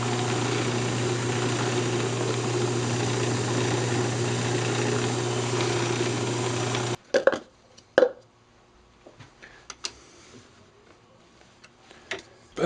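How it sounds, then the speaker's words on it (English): A wood lathe spins a wooden coffee cup during polishing, giving a steady, loud motor hum for about seven seconds before it cuts off, followed by sparse knocks and handling sounds. "Go ahead and bring the lathe speed back up."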